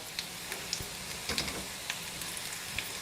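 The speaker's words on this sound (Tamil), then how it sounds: "இங்கே பாருங்கள், பூண்டு நல்லா வந்து செவக்க வதக்கியாச்சு." Garlic frying in oil until reddish for a Tamil poondu milagu kulambu, a faint, steady sizzle with scattered soft crackles and pops, heard alone.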